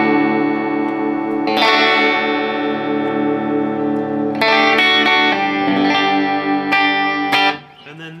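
A G&L Tribute Doheny electric bass plays D with its bass knob rolled off, giving thinner ringing notes; several plucked notes sustain and overlap, then cut off near the end, with no talking.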